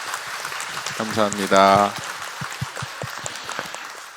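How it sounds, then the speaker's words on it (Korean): A church congregation claps to welcome the bishop at a memorial Mass, scattered hand claps under and after a voice speaking and briefly singing a sustained tone. "주교님께 뜨겁게 박수"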